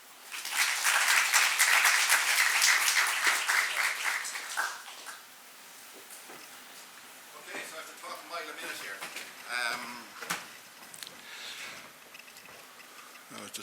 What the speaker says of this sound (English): Ladies and gentlemen, I'd love if you give him a lovely round of applause.